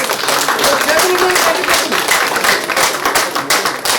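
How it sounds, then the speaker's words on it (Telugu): An audience at a batch reunion gathering in Huzurabad applauds with dense, steady clapping that stays loud for several seconds, with voices mixed underneath. "చప్పట్ల ద్వారా అందరు తెలియాలి సార్."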